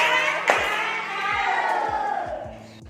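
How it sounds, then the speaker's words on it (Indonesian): A classroom of schoolchildren in Indonesia shouts a 'tepuk salut' clap cheer for a classmate, loud and close, with a steady rhythmic thumping of claps under the bright massed voices. "Tepuk salut buat Tian"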